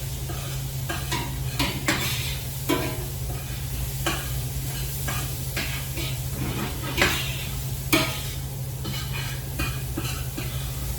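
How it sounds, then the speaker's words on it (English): Vegetables seasoned with salt and pepper sauteing in a pan for gravy, a steady close sizzle broken by repeated scrapes and clinks of a utensil against the pan, with no talking. "I'm going to keep sauteing for a minute."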